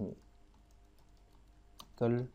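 Faint, sparse clicks of a computer keyboard being typed on while text is entered in Camtasia Studio, followed by a brief burst of speech near the end.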